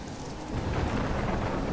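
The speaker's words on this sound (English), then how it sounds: "Let's wake up in the middle of a storm." A thunderstorm in the video game Life Is Strange, a brief dense rumble of thunder swelling under steady heavy rain.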